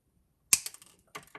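Cutters nip the ends of jewelry wire for handmade ear wires, making a sharp snap followed by smaller clicks and a second, softer cut, all close and isolated.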